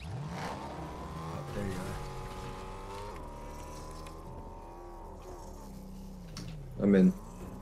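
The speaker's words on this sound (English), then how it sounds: "Oh, there's a car I can grab" Car engine in Fortnite Zero Build revving and driving, a close motor whine that rises and falls with shifting pitch, a brief loud burst near the end, with someone talking over it.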